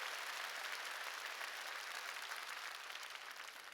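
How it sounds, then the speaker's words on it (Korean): Audience applause at a church service, a dense, steady wash of many hands clapping close by that fills the clip and eases off slightly at the end. "나 박수 좀 쳐줘요"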